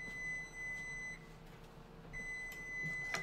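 Two spells of a steady electronic beep tone from a kitchen appliance, separated by a pause, with faint background clatter and no talking.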